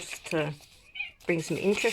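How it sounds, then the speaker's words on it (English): A cat meows twice in the background, short mid-pitched cries squeezed between stretches of a person talking close to the microphone. "And that's my cat in the background."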